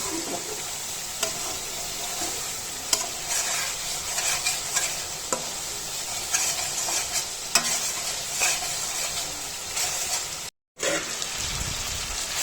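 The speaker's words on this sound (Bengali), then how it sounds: "মশলাটা ভালোভাবে কষিয়ে নিব" Spice paste for beef curry sautéing in a pan, a continuous close sizzle with the scrape and clatter of stirring now and then, one brief dropout near the end.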